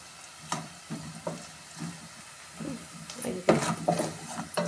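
Onions frying in a pan for a stuffed eggplant curry crackle and sizzle close by, broken by several scraping stir strokes and light clinks of a utensil against the pan that grow busier toward the end.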